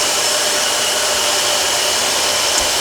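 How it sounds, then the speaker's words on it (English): Air blower aimed at a saw blade while cutting wood for a carved salad server, a loud, steady, close rushing hiss that runs unbroken throughout. "I'm going to push this blower so it's pointing at the blade"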